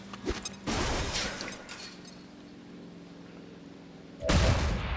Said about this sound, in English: I think we're going to throw another flashbang to disorient both of those guys.